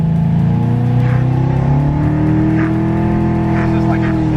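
A 650 WHP ProCharger-supercharged Mustang accelerating hard, a loud sustained engine roar climbing steadily in pitch with supercharger whine over it, heard from close inside or near the car.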